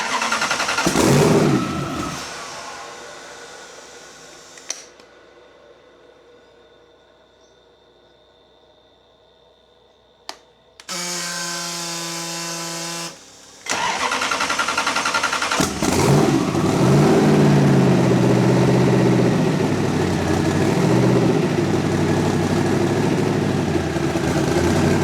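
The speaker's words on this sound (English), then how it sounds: "So we're going to get decent idle out of it." A freshly built Chevy 372 V8 fires up and runs, a broad engine roar with revving and a brief steadier tone mid-clip before settling into a loud, rough idle that continues to the end.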